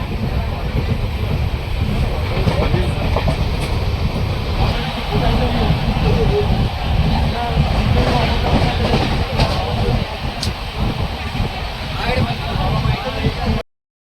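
Interior of a train carriage while the train runs on a ticketless trip to Puri, a steady loud rumble of wheels and cabin noise throughout, with talk on top.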